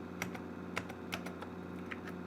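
Typing on a vintage NeXTcube computer keyboard, a brisk irregular series of close, crisp key clicks over a steady low machine hum, with no voices.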